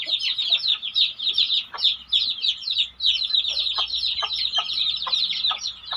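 Young free-range backyard chickens cluck and chirp in a busy, overlapping run of short calls close by, with a few sharper squawks punctuating the chatter and no talking.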